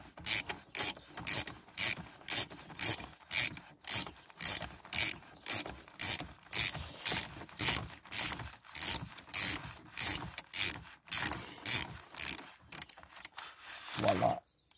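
Rapid ratcheting clicks from a ratchet wrench loosening a 13 mm car battery terminal nut, steady repeated bursts of metallic ticking for most of the stretch, close and clear, ending abruptly.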